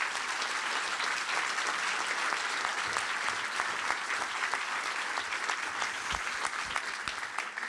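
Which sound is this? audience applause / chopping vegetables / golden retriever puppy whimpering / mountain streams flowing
audience applause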